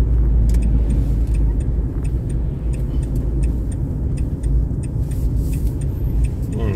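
Car driving fast past the listener outdoors, a loud steady road rumble and engine hum with faint ticking clicks on top, no talking.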